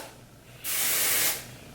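One steady hiss of hairspray from an aerosol can lasts under a second, close by, against a quiet background.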